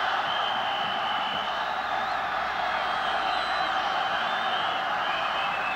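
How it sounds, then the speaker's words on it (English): A packed stadium crowd at the 1971 Rose Bowl college football game between Ohio State and Stanford roars in a dense, loud, unbroken wash that stays constant throughout. "they asked for the crowd to quiet down"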